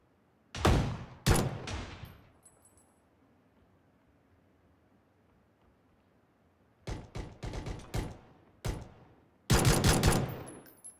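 Gunfire in PUBG: two or three sharp, loud shots open, then a quiet stretch, followed by a rapid string of single shots and a final dense burst.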